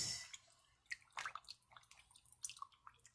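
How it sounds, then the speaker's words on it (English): Tap water splashes and drips over pieces of raw tilapia fish as they are rinsed by hand in a sink, giving irregular close wet splatters and trickles in short bursts. "Get water on it. Make sure you clean each individual piece."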